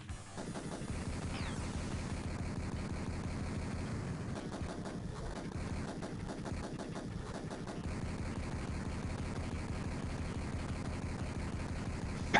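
Homing missiles fire in the Sega Genesis game Phantom 2040, a continuous loud barrage of rapid, crackling blasts and booming explosions that runs without pause.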